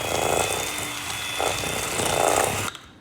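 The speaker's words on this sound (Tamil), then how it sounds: "இது ரெண்டையும் நான் கொஞ்சம் பீட் பண்ணி எடுப்போம்." Electric mixer beating sugar with butter for mini chocolate chip cookies, a steady continuous whirring drone that holds for nearly three seconds before cutting off sharply.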